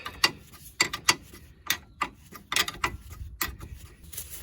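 Ratchet wrench tightening a ball joint on a Ford Focus during a suspension repair, giving several short bursts of rapid clicking separated by brief pauses, close and fairly loud with no talking.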